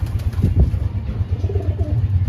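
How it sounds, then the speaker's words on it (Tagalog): Young pigeons coo close by, low rolling throaty calls over a steady deep hum, with soft rustling in the loft. "Nandito lang yung mga young bird natin."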